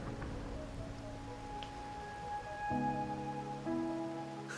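Steady rain falls in the video game Wuthering Waves, a soft, even wash of drops on a surface, with tonal music lines running over it throughout.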